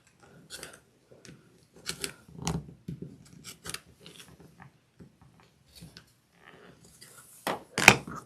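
Scissors snip the small fabric dog ears off a beginner square-in-square quilt block, a few quiet, separate cuts with a sharper pair of snips near the end, with soft handling noises between them.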